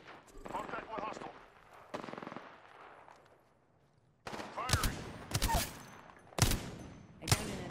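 Gunfire in Apex Legends, a few bursts of weapon shots early on, then heavier, louder volleys of rapid fire in the second half, with short gaps between bursts.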